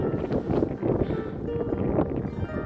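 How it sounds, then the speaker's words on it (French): Wind gusts on a mountain hike near a cloud-covered summit, a low rumbling buffet against the microphone lasting a few seconds, fairly loud and continuous. "Ah, il y a du vent là."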